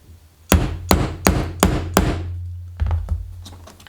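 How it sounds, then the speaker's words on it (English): A hammer strikes a setting tool to fix an eyelet into handmade shoe leather, five sharp, loud blows at an even pace, followed by a few lighter taps. "you're going to hammer it a couple of times."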